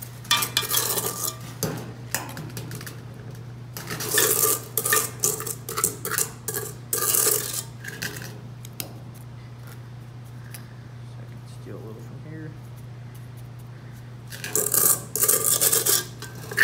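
Trowel or straightedge scraping excess mortar off the top of a cube mold, giving rough rasping strokes in bursts, close and fairly loud, with quieter pauses between passes and a steady low hum underneath.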